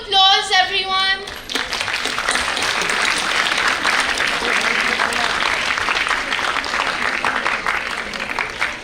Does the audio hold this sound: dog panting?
no